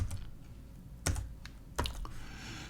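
A few sparse keystrokes on a computer keyboard, two sharper taps standing out among lighter clicks, close and fairly quiet against a faint background hiss, with no voice.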